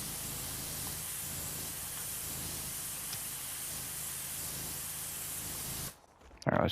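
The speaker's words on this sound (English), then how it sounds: "Let's spray from here" A pressure washer sprays continuously in PowerWash Simulator 2, a dense, even hiss of water jetting at close range that cuts off abruptly near the end before a brief louder burst.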